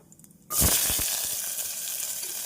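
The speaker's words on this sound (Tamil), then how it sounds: "எண்ணெய் காயவும் கடுகு, உளுந்து, ஜீரகம் போட்டுவிடலாம். கடுகு பொரியவும் வெங்காயத்தை சேர்த்து விடலாம்." Mustard seeds, urad dal, cumin and onion drop into hot sesame oil with a sudden loud burst of sizzling and a few popping crackles, then settle into a steady, close frying hiss with no talk.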